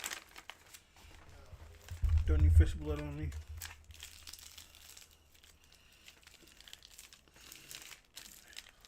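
Plastic bag crumpled and crinkled in a brief burst of rustling amid scattered handling noises, with someone speaking over the middle of it.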